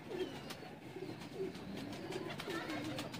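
Soft, low cooing from Teddy pigeons, one ten years old, repeats in gentle rounded phrases over a steady background hum, with faint chirps and clicks scattered throughout.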